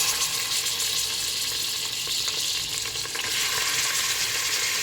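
Mutton hits leftover ghee and oil in a pan for Lucknowi Kundan Kaliyan, giving a loud steady sizzle and crackle of frying meat close by, with no talking.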